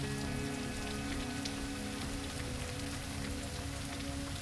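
Steady rain in the Rain District of the video game Bleak Faith: Forsaken, a dense continuous patter on surfaces with a low droning hum beneath, unbroken and fairly loud throughout, with no voices.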